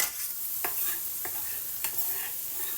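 Garlic sizzles in melted butter in a pan, a steady bright frying hiss broken by a few sharp scrapes as it is stirred.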